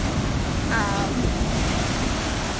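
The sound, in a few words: ocean waves on the shore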